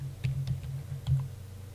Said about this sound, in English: Just type staircase here